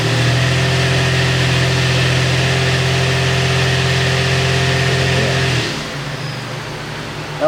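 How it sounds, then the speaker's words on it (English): A car engine, in drive and held against the brake, holds a loud, steady high-revving drone for several seconds, then drops abruptly to a lower idle near the end. "You should be able to hear the engine brake torque."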